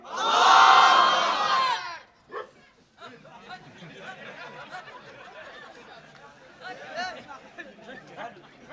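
A large crowd at a religious sermon shouts the takbir, Allahu Akbar, in a loud unified burst that fades after two seconds, followed by murmuring chatter and a speaking voice.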